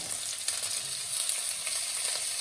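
Salted food sizzles steadily in a frying pan as it is stirred, a constant close hiss with faint scraping throughout.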